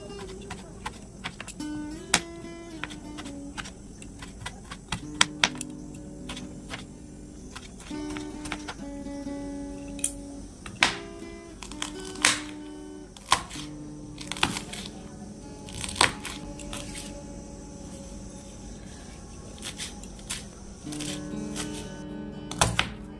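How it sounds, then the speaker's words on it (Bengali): A knife chops tomatoes and onions into small pieces on a board, giving a quiet run of irregular taps and clicks with short pauses, some sharper strikes standing out against a low background. "টমেটোকেও ছোট ছোট করে কেটে নেব"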